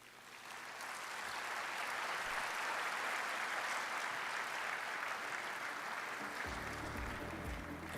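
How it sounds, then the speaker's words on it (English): A large audience at the 15th World Forestry Congress closing ceremony applauds in a broad, sustained wash of clapping that swells after a moment and continues at a steady level, heard from a distance in a big hall. "Please give another big round of applause for the 15th World Forestry Congress outcomes"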